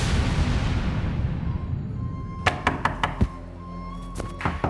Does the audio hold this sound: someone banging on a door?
yes